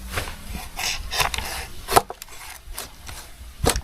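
A knife chops through a blanched eel at the bone joints on a cutting board, giving sharp, irregular thuds and knocks with a few harder strikes, close up and alone without talk.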